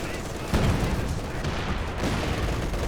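Mortar hits in the video game Company of Heroes 2, a dense run of booming impacts and rumbling blasts over a few seconds, with faint commentary voice underneath.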